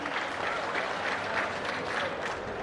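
A crowd at an outdoor public political meeting applauds steadily, a dense continuous wash of many hands clapping at a moderate distance with no pause.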